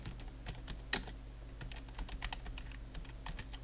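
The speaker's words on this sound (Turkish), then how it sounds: "Öğrenci nasıl ekleyeceğim? Hemen yazıyorum." A student's name is typed on a computer keyboard: a steady run of light, quick key clicks, close and fairly quiet, with one slightly louder tap near the start and no talk.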